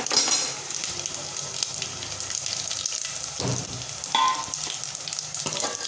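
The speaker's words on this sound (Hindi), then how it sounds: "इनको हमने भून लेना अच्छी तरह से। जो खड़े मसाले थे वो अच्छी तरह से भून हो चुके हैं।" Whole fenugreek, coriander, ajwain and cumin seeds dry-roasting in a pan for Punjabi kadhi, giving a steady close sizzle and crackle with a few scraping stirs, no talking.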